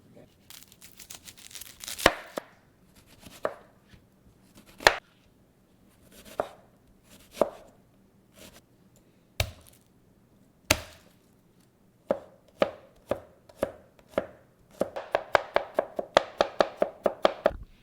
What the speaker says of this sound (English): we're going to start chopping up the garlic and the onion.